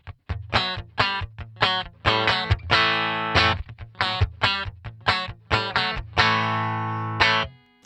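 A Kiesel Lyra electric guitar with Allen Holdsworth pickups plays through a Headrush unit with a dry, driven tone: a run of clipped, percussive picked notes and chords, some short and choppy, others held and ringing, with no voices.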